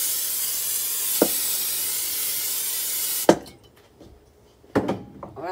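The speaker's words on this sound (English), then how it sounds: "I'm just gonna spray it" Cooking spray hisses onto a Pyrex baking dish in one long steady burst lasting about three seconds, then stops, followed by a few clunks and knocks of the can and dish.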